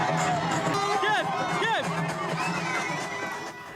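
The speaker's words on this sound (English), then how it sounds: "Crowds lined the country's capital to cheer on the players as they arrived back from the World Cup" Crowds lining the streets of Cape Verde's capital cheer as the national soccer team returns home from the World Cup, a steady roar of voices with whoops and shouts rising over the babble throughout.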